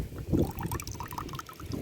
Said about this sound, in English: I had this water going into grass for some time and wanted to use this blue bucket just to collect the water